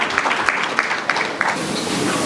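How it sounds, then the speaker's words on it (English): Conference audience applauds at an East Africa tech, finance and agriculture session, a steady dense clapping from a sizeable crowd throughout, loud and close. "a round of applause for him"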